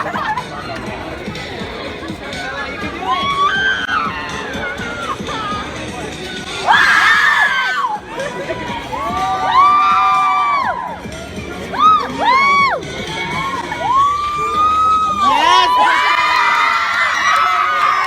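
A crowd at a K-Pop winter performance cheers and shouts loudly, with excited whoops, high screams and children's voices rising in bursts over constant chatter throughout.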